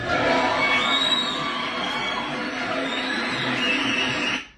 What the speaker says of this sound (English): Let's give a round of applause for Jordan.